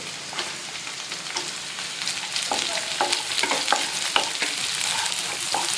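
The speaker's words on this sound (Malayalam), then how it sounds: "സവാള അധികം വഴന്നു പോകണ്ട, ജസ്റ്റ് ഒന്ന് ട്രാൻസ്പെറൻ്റ് ആവുന്ന വരെ" Diced onions sautéing for chilli chicken, a steady close sizzle broken by repeated scrapes and clicks of a spatula stirring through the pan, with no talking.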